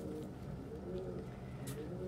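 Soft cooing from pigeons in a loft in the evening, a few low, throaty coos close together, quiet and continuous, with a brief faint rustle partway through.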